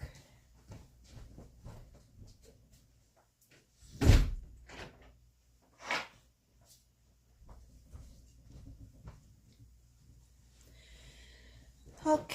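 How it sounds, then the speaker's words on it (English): A bedroom door swings shut with one sharp knock near the middle, followed by a softer bump, amid quiet rustling and handling noises in an otherwise hushed room. "I'm just going to close my door real quick."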